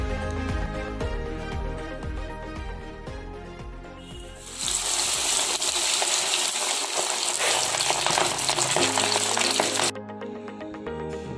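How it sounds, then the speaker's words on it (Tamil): Chicken leg pieces drop into hot oil for deep frying, bursting into a loud, dense sizzle that holds steady for several seconds, then cuts back to quieter bubbling. "எண்ணெய் நல்லா சூடானதுக்கப்புறமா தான் நம்ம இதை உள்ளே போட்டு எடுத்துருக்கணும்"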